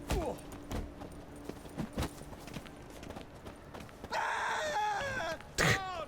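Screaming in the video game Witcher 3, rising wavering cries near the end following hoof clip-clops and scattered thuds, with a brief shrill shout at the close.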